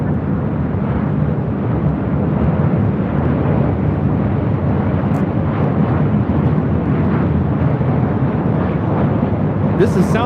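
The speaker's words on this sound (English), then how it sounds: "This is Southwest Airlines 2061 coming in from Tucson, Arizona on a 737-700." A Southwest Airlines Boeing 737-700 arriving from Tucson roars in on approach at LAX, a steady broad jet rumble that stays loud and even throughout with a touch of wind noise on the microphone.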